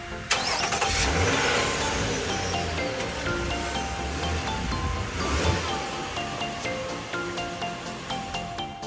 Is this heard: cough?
no